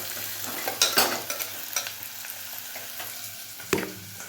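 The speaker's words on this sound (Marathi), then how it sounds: "म्हटलं आता मी कांदा फ्राय करून घेते." Onions frying in a pan for chicken khichdi, a soft continuous sizzle broken by a few sharper stirring scrapes and clinks, close and without speech.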